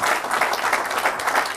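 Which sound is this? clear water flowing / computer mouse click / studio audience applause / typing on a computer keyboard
studio audience applause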